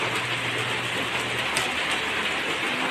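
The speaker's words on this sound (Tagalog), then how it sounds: "Humina yung ulan pero madilim pa rin." Steady broadband hiss of rain falling continuously, with a faint low hum in the first half and no voices.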